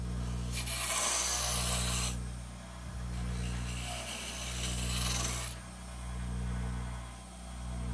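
A skew chisel cuts a wooden pen holder spinning on a lathe, making two long bursts of hissing, rasping scraping over the motor's steady low hum, with rhythmic swells between the cuts and no speech.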